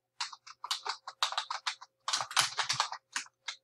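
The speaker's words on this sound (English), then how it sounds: "what you want to do next is type your name, your professor's name" Rapid, close typing on a computer keyboard while entering a name in a Google Document, with crisp key clicks in quick bursts separated by short pauses and no other sound.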